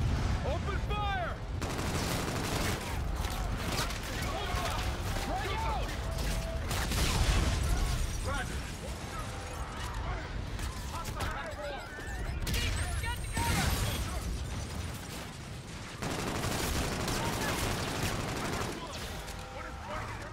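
Dense, continuous gunfire from rifles and machine guns roars through a Call of Duty: Infinite Warfare campaign battle, with explosions and crashes mixed in and voices shouting over the loud, unbroken din.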